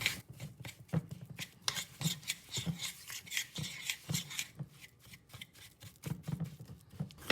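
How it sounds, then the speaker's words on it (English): A spoon stirs s'mores batter smooth in a bowl, giving a steady run of soft scraping and tapping strokes, fairly close and moderately quiet, with no voices. "So we're just gonna mix this up. I'm just gonna use a spoon, I guess."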